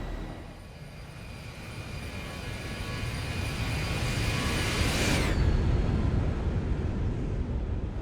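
Airplane engine climbing through clouds in the X-Plane 11 flight simulator, a steady broad roar with whining tones that swells gradually, then the high whine drops away abruptly midway while the low rumble continues, with no talking.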